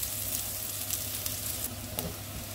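Shallots and garlic sautéing in a pan for an instant sambal base, a steady close sizzle of frying with a few soft stirring scrapes and no talking.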